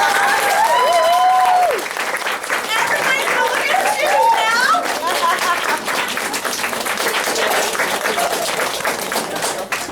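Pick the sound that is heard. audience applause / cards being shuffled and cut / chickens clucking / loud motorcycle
audience applause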